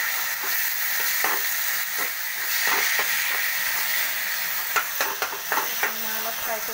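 A paste of ginger, garlic and cumin fries and sizzles steadily in a hot pan, with scattered clicks of stirring that get busier toward the end. The hiss is broad and close, and no voices are heard.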